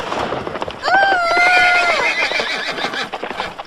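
A horse whinnies loudly over rapid clip-clop hoofbeats, the animal close and moving fast at a gallop.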